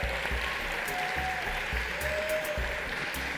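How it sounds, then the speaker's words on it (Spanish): Audience applause in a hall at an awards ceremony during a video game expo, dense continuous clapping filling the room at an even loud level with no pauses. "Un aplauso para la presidenta de ADVA, che."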